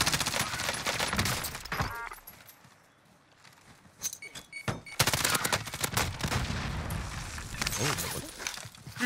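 Gunfire in Warzone, bursts of rapid shots at the start, then a quieter lull, then more volleys of shooting over the second half, with someone talking over parts of it.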